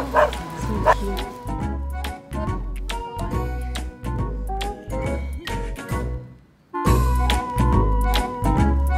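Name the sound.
dog barking in Japan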